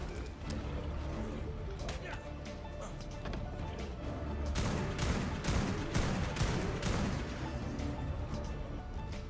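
Gunfire rings out in a video game while taming a rival SaberWolf. A quick volley of sharp shots lands in the middle of steady game noise, and someone talks throughout.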